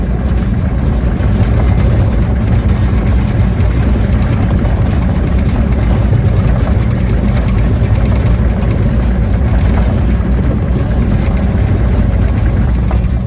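A tracked machine's engine runs steadily at a loud, low idle beside a pond where trees are being cleared, a constant close rumble with no talking over it.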